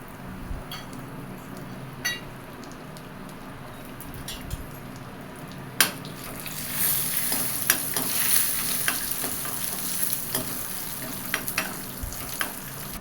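Cardamom, almonds, cashews, charoli and raisins fry in a pan for kheer while a spoon stirs them, giving a steady soft sizzle with scattered scraping clicks and a busier crackle partway through.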